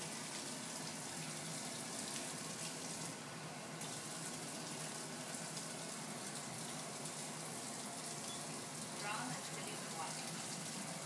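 Ordinary tap water runs steadily from a kitchen faucet, a continuous broadband hiss and splash that stays even throughout, with no talking over it.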